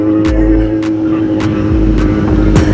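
A Kawasaki Z800 motorcycle's engine rumbles loudly and close, a deep continuous drone with rising and falling revs and periodic bursts of wind buffeting against the microphone.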